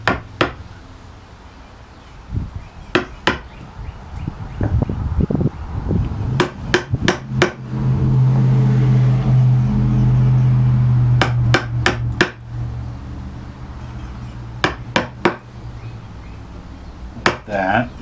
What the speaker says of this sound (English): So I'm sneaking up to that baseline and now putting the chisel pretty much right in it.